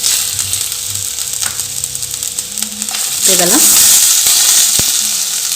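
Green chili, garlic and roughly cut tomatoes sautéing in a pan for hotel-style pongal sambar, a steady close sizzle with scraping stirs, swelling louder partway through as the vegetables are moved around.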